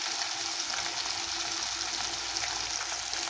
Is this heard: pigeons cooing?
no